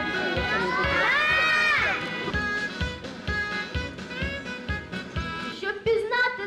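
A crowd of children shouts in loud unison in reply at a school ceremony on the first day of school, their voices rising together above a noisy background.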